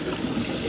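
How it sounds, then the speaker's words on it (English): Running tap water splashes steadily over cloves of garlic being rinsed clean in a kitchen, a continuous close trickle and gush with no talk. "And rinsing water as well."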